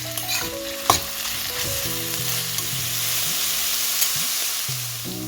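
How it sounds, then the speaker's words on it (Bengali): Onions frying in oil in a wok for a Kolkata-style chicken biryani, a bright continuous sizzle with a couple of sharp clinks, while a faint tonal hum plays low in the background. "তো এখানে কড়াই তেল দিয়ে পেঁয়াজটাকে ভাজতে দিচ্ছি"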